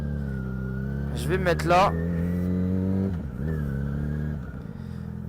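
A Yamaha XJ600 motorcycle idles and pulls through a U-turn, its engine hum steady with a brief rising rev burst midway, then settling back to a low drone while someone talks over it close by.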